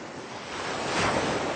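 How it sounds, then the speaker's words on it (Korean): Ocean waves on the open sea surging in a soft, steady wash of noise that swells slightly louder toward the end, with no voices. "저 아래로는 파도가 넘나들고"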